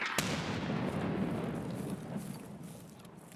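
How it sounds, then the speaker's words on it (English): Grenade blast in a video game shooter, a sharp crack followed by a rolling, fading rumble of the explosion, fairly close and loud. "Кидаю гранату!"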